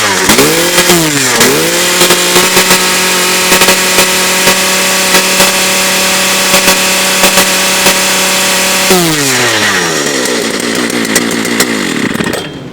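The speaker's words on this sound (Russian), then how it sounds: "Вот это пила, вот это звук. Так звучат настоящие пилы для настоящих мужчин." A powerful petrol chainsaw, a Stihl MS 880 or Husqvarna 3120 XP, runs loud and close, revving up and down a couple of times before holding a steady high whine, then dropping back toward idle near the end.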